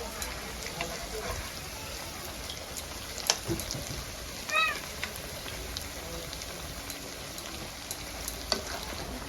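Cabbage pakoras in batter frying in hot oil, giving a steady, close crackling sizzle throughout with a few brief louder pops and stirring clicks.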